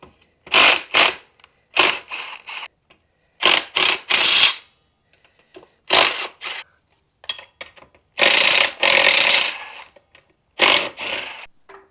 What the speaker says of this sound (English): So I'm just gonna take off the axle bolts from the diff.